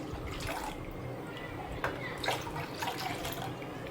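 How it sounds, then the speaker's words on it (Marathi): Hot milk with a layer of cream pours into a kadhai for sabudana kheer, a soft, continuous liquid splash with small gurgles and drips, close by in a kitchen. "हे जे दूध आहे मी आधीच गरम करून घेतलेलं होतं अगदी मलाई आलेलं दूध आहे ते मी त्याच्यामध्ये संपूर्ण टाकून घेते"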